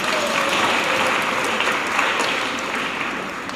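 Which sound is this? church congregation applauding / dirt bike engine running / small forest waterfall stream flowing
church congregation applauding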